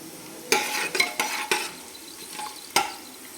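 Whole spices frying in oil, including bay leaves, cloves, black pepper, a cinnamon piece and small and large cardamom, a soft sizzle punctuated by several sharp metallic clinks and scrapes of a spoon in the pan; no voices.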